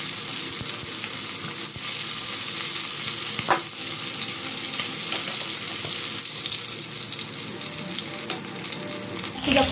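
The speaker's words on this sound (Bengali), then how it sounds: "এরকমভাবে বাকি পিসগুলো ভেজে নেব।" Chicken pieces fry in a pan, giving a continuous, even sizzle with occasional soft clinks and scrapes. It is fairly close and loud, and no one speaks.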